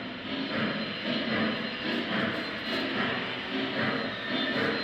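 O gauge hi-rail model train test running on a large home layout, a steady continuous rumbling whir that swells and eases slightly, fairly loud and close, with no talk.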